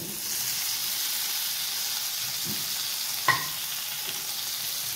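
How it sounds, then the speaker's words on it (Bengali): Vegetables for a rohu fish curry with pumpkin and ridge gourd being stirred into fried spices in a pan, a steady soft sizzle and hiss with scraping stirs and one sharp clink of the utensil against the pan. "এখন মশলার সাথে সবজিগুলো ভালো করে মিশিয়ে নেব"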